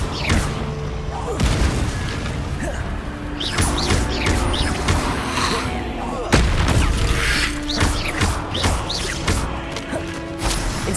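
Incendio fire spells blast in Hogwarts Legacy, a run of loud booming bursts and crashing impacts layered over continuous combat noise, close and dense, with occasional voice shouts mixed in.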